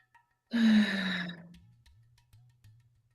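A single deep breath drawn in and let out slowly during a guided relaxation, a close, soft sigh that fades into quiet breathing with no speech.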